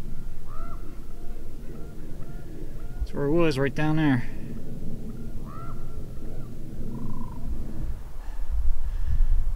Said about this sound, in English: Hear all those crazy birds.